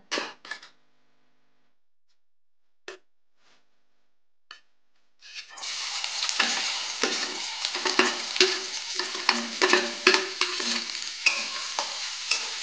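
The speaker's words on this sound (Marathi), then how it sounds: "मोठी 2 चमचे तेल टाकून घेतले. आता टाकूया आपण त्याच्यात कांदा." Onion frying in about two spoons of hot oil in a kadai: after a few soft clicks and taps, a loud, steady sizzle starts and continues, with stirring scrapes.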